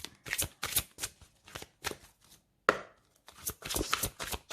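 Tarot and oracle cards being shuffled by hand, a series of short papery riffling bursts with brief pauses between them, close and fairly quiet with no talking.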